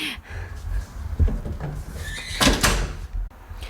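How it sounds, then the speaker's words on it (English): A hotel room door swings and shuts nearby, with a handling clunk and a firm closing thud partway through amid quiet room noise. "So let's close the door."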